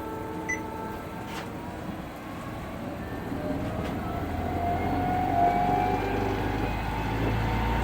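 A Harbor Freight lathe converted to a DC motor spins up from rest, a low mechanical hum and whir rising steadily over a few seconds and settling into a continuous drone.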